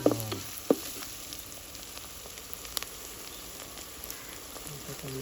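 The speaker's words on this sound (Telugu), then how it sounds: "తర్వాత పచ్చిమిర్చి వేసుకోవాలి" Green chillies dropped into onions frying in a pan, a couple of sharp thuds at the start and then a quieter, steady crackling sizzle with faint scattered pops.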